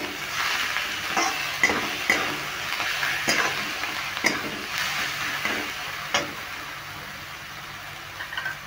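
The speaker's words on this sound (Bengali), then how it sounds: "একটু নেড়ে ভেজে নিচ্ছি" Salted spice masala for a chicken pasta being stirred and fried in a pan, a moderate sizzle broken by repeated sharp scraping strokes of a spoon against the pan, tapering quieter toward the end.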